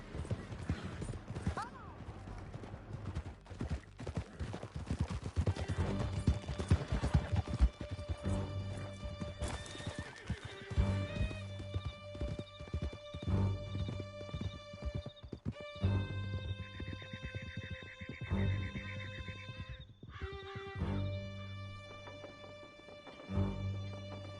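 Horses gallop in Red Dead Redemption 2 with steady clip-clop hoofbeats and the odd whinny under continuous game music, and voices talk at times.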